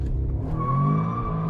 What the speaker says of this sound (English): All right, so we're gonna try launch control.